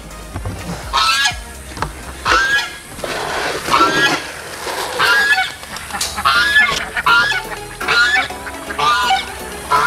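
A flock of ducks and geese honks loudly and repeatedly while being fed, close by, the calls overlapping in waves with no talk.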